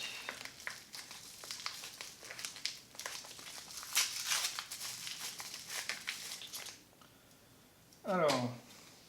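Protective packing paper is crinkled and unwrapped from a parcel up close, with bursts of irregular crackling and rustling, then a short pause and a final louder crumple.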